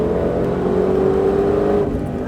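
A Ford Mustang Shelby GT500 accelerates on a racetrack at Exotics Racing Las Vegas, its engine droning loud and steady with a gently rising pitch throughout, with no voices.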